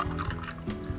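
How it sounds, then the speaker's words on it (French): Caipirinha cocktail poured over ice into short glasses, a brief close liquid pour with light splashing and faint ice clinks, no talking. "Et on verse avec la glace dans des beaux verres, pas trop hauts."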